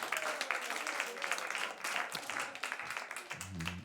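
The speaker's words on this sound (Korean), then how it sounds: "와, 우리 새충교회 박수 한번 합시다." A church congregation applauds during a service, a dense, steady wash of many hands clapping that carries on for several seconds at a moderate distance, with a brief voice rising near the end.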